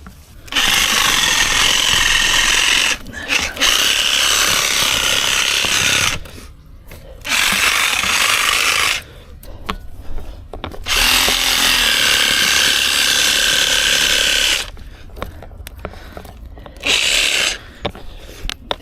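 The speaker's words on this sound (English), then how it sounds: "you can use a screwdriver or a pry bar like this. And just pry all that stuff out." Pry bar scraping and gouging tangled roots out of a deck channel drain, a loud sustained grinding rasp in several long bursts separated by short pauses.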